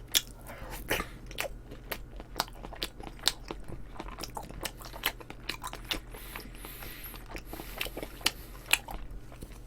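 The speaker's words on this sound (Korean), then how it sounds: "저는 계속해서 먹습니다" Close-up eating of tteokbokki and other Korean snack foods, with steady wet chewing and repeated crisp bites and crunches in a quiet room, no talking.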